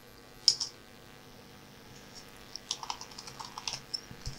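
Keystrokes on a computer keyboard typing into a Windows 10 search field: one sharp click near the start, then a quick run of light, close taps in the latter half over a quiet room hum.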